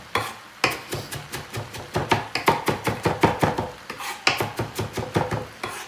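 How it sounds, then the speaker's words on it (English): Steady knife chopping of fresh dill on a cutting board, close and crisp, in a fairly regular run of quick strikes with a brief pause partway through, no talking. "I am going to get the dill chopped"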